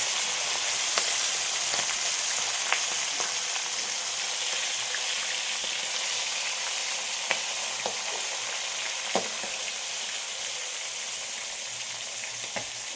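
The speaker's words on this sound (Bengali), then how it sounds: "এই দেখো একটা গোটা মাথা ভাজা হচ্ছে" A whole fish head fries in oil over a clay stove, giving a loud, unbroken sizzling hiss close by, with occasional light clicks and pops and no voices.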